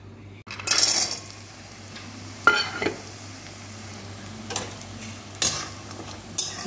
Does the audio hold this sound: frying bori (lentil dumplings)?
yes